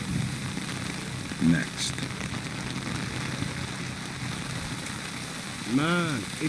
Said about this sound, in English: It's really raining.